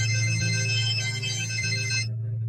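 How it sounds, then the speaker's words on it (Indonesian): Telephone ringtone from an incoming scam call, a loud, steady electronic tone that plays continuously and then cuts off abruptly. "Telepon penipuan lagi."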